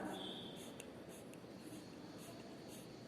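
A pen moves over paper while forming Hindi handwriting letters, producing a quiet, close scratching that is steady and soft throughout, with no speech.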